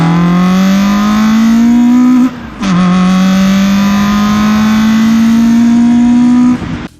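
A loud car engine revs with a climbing pitch, dips briefly, then revs up again in a long, rising roar.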